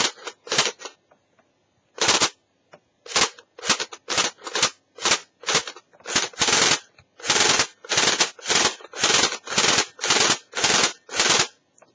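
Rapid mechanical clacks fire in quick bursts and single shots, loud and close, the blowback action of a CyberGun Micro UZI light gun for PlayStation snapping over and over with short pauses.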